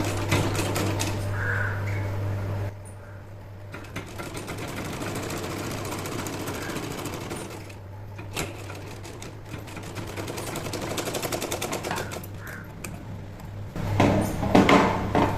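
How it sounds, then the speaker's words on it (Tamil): A sewing machine stitches a straight seam in cloth, running in steady bursts with short pauses, close and fairly loud with a constant motor hum underneath. "இதில் தான் தைக்கிறேன் ஓகேவா ஸ்ட்ரெயிட்டாக தைக்கணும்"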